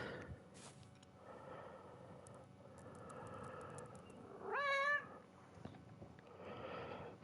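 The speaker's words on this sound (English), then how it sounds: "Apologies if you heard a meow then" A pet cat gives one short, faint meow partway through, set against quiet background noise and soft snorting breaths during a Kingdom Come Deliverance play session on PS5.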